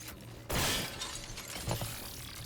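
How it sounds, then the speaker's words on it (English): A mirror shatters in the video game Remnant 2 with one sudden, loud crash of breaking glass, followed by a scatter of smaller tinkling and cracking bits that fade under a steady game background. "mirrors that shatter but don't break"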